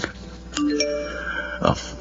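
A phone text message notification, a short two-note ding-dong chime over a soft tonal music bed, followed by a brief thump near the end.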